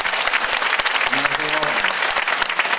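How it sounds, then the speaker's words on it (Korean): A symposium audience at a Korean Catholic church event gives a dense round of applause, loud and continuous, as a voice briefly carries through the clapping. "한상공 형제님을 박수로 맞아주시기 바랍니다."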